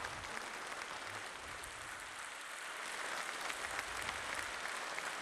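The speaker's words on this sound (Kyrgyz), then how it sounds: "элиңиз сизге кол чаап койсун" An audience applauds at an official ceremony marking the 35th anniversary of the Kyrgyz state language, a steady, dense wash of clapping that holds for about five seconds and swells slightly toward the end, with no voices over it.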